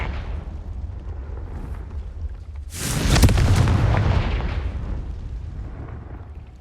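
A Confringo fire spell from Hogwarts Legacy bursts in a loud, sudden blast after a low rumbling lead-in, then a broad roaring decay fades over several seconds.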